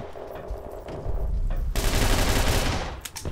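Gunfire in the online shooter Red Crucible: Firestorm, loud sustained bursts of rapid shooting that erupt midway and run dense and continuous, with scattered quieter shots before them.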